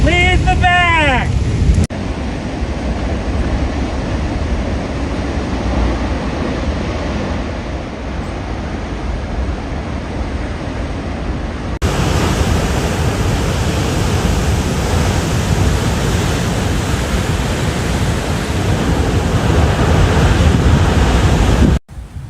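Massive high surf pounds the California coast during a coastal flooding event, a loud, continuous roar of breaking waves mixed with heavy wind buffeting the microphone and briefly broken by a cut.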